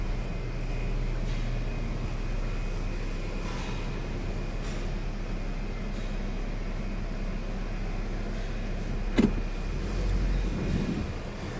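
A car on a test drive after a wheel alignment at a dealership. Steady cabin road rumble and engine drone carry throughout, with one short knock near the end.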